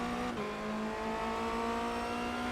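Formula Renault 2.0 race car engine in a racing video game, running at a steady high pitch as the throttle goes back on after a brief dip, loud and continuous with no talking.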